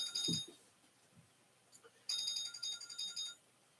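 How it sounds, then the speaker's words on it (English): A short electronic timer ringing tone sounds twice during a home PE game, a brief burst and then a longer trilling ring, fairly faint with a quiet voice briefly before it. "If not, it will ding-a-ling in a moment."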